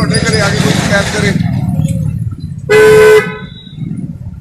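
A car horn blasts once, loud and close, lasting about half a second, right after someone speaks over street noise, with more talk following.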